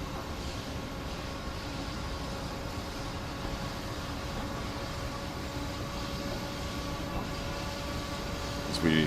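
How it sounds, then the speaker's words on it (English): An Amtrak train in the Train Sim World 6 game pulls away slowly, a steady low rumble and hum of the locomotive holding level throughout with a faint rise at the very end. "As we drive the Amtrak 50. Very slow to start out."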